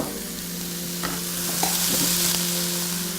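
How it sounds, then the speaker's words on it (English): Chopped, pureed tomatoes sizzle steadily in a hot frying pan, a constant crackling hiss with a few light clicks of stirring and a low hum underneath. "Listen to that sizzle."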